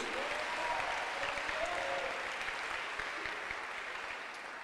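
A church congregation applauding, a broad continuous wash of clapping hands from many people that fades slightly toward the end.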